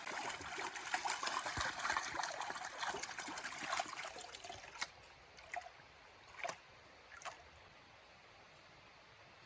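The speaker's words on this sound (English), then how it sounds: "Sometimes I have to run water over it to see how it moves." Water trickles and splashes over a gold pan while prospecting on the Swift River, a steady outdoor wash for the first half, then quieter with a few separate drips and splashes.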